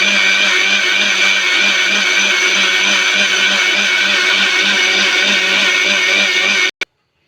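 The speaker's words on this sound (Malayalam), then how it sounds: "ഇനി ആവശ്യത്തിനുള്ള ഉപ്പും കൂടെ ഇട്ട് കൊടുത്തിട്ട് നമുക്കിതൊന്ന് അരച്ചെടുക്കണം കേട്ടോ" A mixer grinder whirs loudly and steadily, grinding ingredients with salt for close to seven seconds before it cuts off abruptly, followed by a brief click; no voices.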